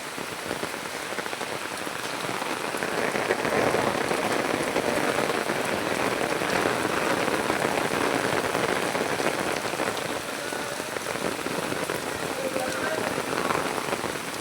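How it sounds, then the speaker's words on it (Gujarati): Heavy monsoon rain pours steadily onto flooded farm fields in Banaskantha, Gujarat, a loud, continuous dense hiss of drops with no pauses and no voices. "આજે જો ફૂલ વરસાદ પડી રહ્યો છે"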